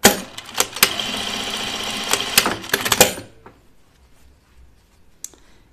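A sewing machine stitching a short seam on the ends of a ruffle, a fast rattling whir with sharp clicks for about three seconds, then near silence with a stray tap.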